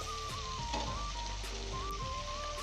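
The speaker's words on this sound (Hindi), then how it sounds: "चिकन को फ्राई होते हुए 2 मिनट हो चुके हैं।" Chicken pieces for zinger shawarma frying in a pan, a steady close sizzle running throughout, with a faint tonal hum wandering underneath.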